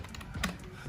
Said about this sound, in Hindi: अगर हम हार्ड टाइप करते हैं तो ये आवाज़ करता है